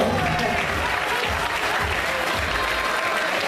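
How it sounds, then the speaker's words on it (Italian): Sustained applause from an audience at a gala dance show, a broad, even wash of many hands clapping, with faint voices underneath. "venga a prendersi un altro applauso direttamente da Zelig"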